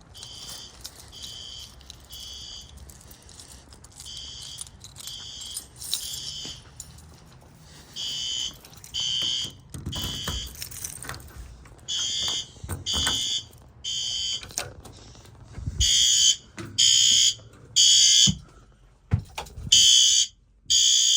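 A building fire alarm blares in repeated pulsing bursts during a routine monthly test, loud and close in a small room, with the cadence tightening toward the end.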